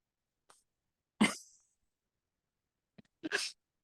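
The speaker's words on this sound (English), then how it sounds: "She just put her nose in and gave a big whiff. She just sneezed." A single sharp sneeze bursts out close by, followed by a quieter sniff and a second short sneeze-like burst after a pause.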